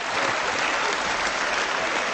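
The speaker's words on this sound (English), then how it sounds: "that's the first time I've ever received such applause" Steady, dense applause fills a parliament chamber, loud and sustained throughout with no break.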